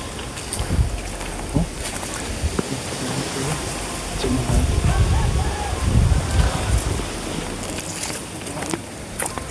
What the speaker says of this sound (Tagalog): Grabe napakalakas ng hangin bro